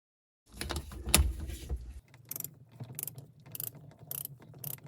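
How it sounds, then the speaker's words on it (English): A torque wrench tightens bolts to 18 foot-pounds on an overhauled Sea-Doo 951DI jet ski engine, giving close, quiet ratcheting: a dense burst of clicking, then a run of separate sharp clicks. "all I'm doing now is just tightening the bolts with the torque wrench"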